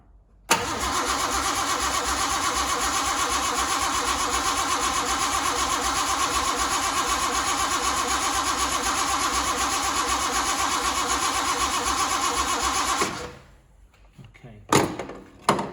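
A Reliant Scimitar GTE SE5/A engine cranks steadily for about twelve seconds without firing, a loud, even whirring churn that stops abruptly, followed by a few faint clunks.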